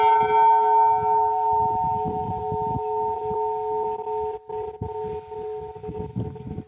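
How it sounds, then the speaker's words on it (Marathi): A temple bell at a temple entrance in the forested Matheran hills rings with sustained metallic tones and a lingering hum, joined by a clatter of softer rattling strikes, fairly close and loud. "घंटानाद तुम्ही ऐकला असेल बघा."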